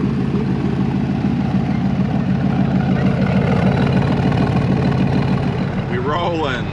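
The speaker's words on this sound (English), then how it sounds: "It is a truck engine." A 2012 Ford F-150 pickup's Coyote 5.0 V8 rumbling steadily at idle, deep and close, with a throbbing low drone throughout.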